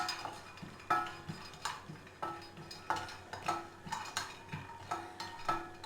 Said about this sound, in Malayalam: ഇത് ആദ്യം ഒന്ന് ജസ്റ്റ് ഒന്ന് വറുത്ത ശേഷം നമുക്ക് പൊട്ടുകടലയും കൂടി ചേർത്ത് കൊടുക്കാം